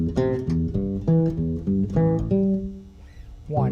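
A bass guitar plays a melodic line in a triplet rhythm, clear and close with distinct notes sounding alone, briefly thinning out near the end before a final note.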